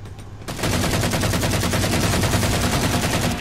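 Rapid continuous gunfire from the Halo 4 video game, loud and dense, starting after a brief lead-in and running steadily as a fast burst of shots.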